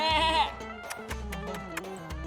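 Goats on a remote mountain road in Montenegro bleat, one letting out a loud, wavering bleat up close, followed by a couple of shorter bleats and some background noise.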